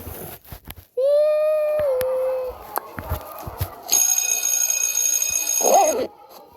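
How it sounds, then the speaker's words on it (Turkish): School bell in the Avatar World game rings as a bright electronic tone lasting about two seconds, preceded by shorter synthetic game chimes and followed by a brief squeaky effect; no talk. "Zil çaldı."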